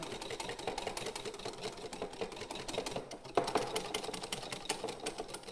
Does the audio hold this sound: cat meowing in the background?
no